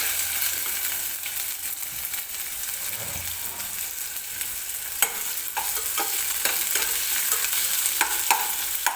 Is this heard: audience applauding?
no